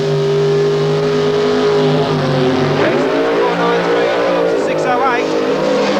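Drag racing cars roar down the strip at the Winternationals at Willowbank, Australia, in 1990, loud and continuous with rising engine pitch that bends as they pass, under an excited announcer's commentary.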